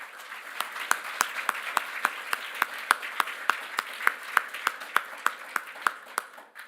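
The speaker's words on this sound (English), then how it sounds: "let's have a big round of applause for EST Bill Flynn" A carpenters union audience in Scranton applauds at a political event, a soft wash of clapping marked by distinct, evenly spaced sharp claps that repeat steadily for several seconds before trailing off.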